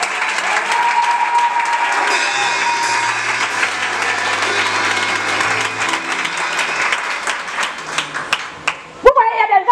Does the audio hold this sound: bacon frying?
no